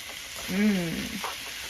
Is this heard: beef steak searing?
yes